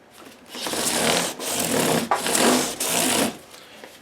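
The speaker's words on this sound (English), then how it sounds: "you can hear the difference on how smooth the frets are getting just as we go to a finer and finer grit" Fine 1200-grit abrasive rubs across the frets of a Gibson SG Standard guitar in loud, close, smooth scrubbing strokes, about three long passes broken by brief pauses, with no voice.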